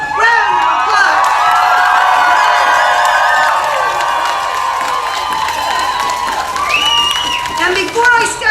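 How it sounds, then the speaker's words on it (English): A rally crowd in DC, gathered against trans inclusion in women's sports, cheers and whoops loudly with applause mixed in. Many raised voices carry steadily across the full stretch, and a few shouts stand out near the end. "I want you to give them a huge round of applause"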